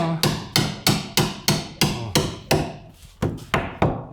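Sharp hammer blows ring out close by as a hole is punched right through, about a dozen in a steady rhythm with a brief hesitation near the end.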